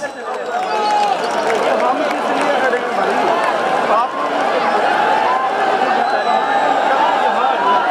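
Crowd applause at a PTI political rally in Bahawalpur, a dense, steady roar of clapping and cheering from a large gathering that holds loud throughout without a break.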